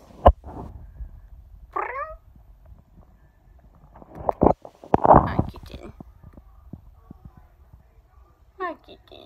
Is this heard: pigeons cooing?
no